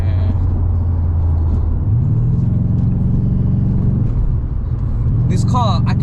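A 1999 BMW 840Ci E31 engine idles with a low, steady, smooth hum heard from inside the car, running continuously beneath people talking.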